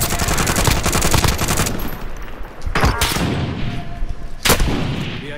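Gunfire in Call of Duty: Modern Warfare, dense rapid automatic bursts loud and close for the first two seconds, then two sharp isolated shots over a busy battlefield background.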